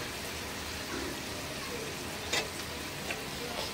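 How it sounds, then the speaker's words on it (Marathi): Spices sautéing in hot oil in a pan for a bhendi batata fry, giving a steady, even sizzle with a few brief clinks or stirs over it. "हे आता 2च मिनिटं असं मसाले परतून घेऊया व्यवस्थित"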